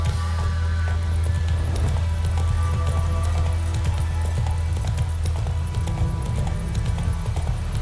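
Roach, the horse in The Witcher 3, gallops steadily with a fast rhythmic clip-clop of hooves over a constant low rumble of game ambience, continuous and close throughout.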